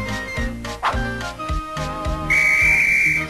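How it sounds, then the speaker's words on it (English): Train whistle in a Thomas and Friends video game, a steady high toot sounding near and loud for about a second, following a run of rhythmic chugging and clanking. "You blow the whistle again."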